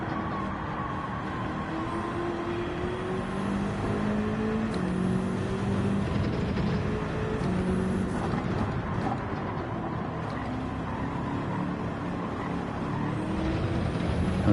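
A race car in Gran Turismo 7 drones steadily with its engine note rising and falling through gear changes and braking, a continuous mechanical hum with no talk over it.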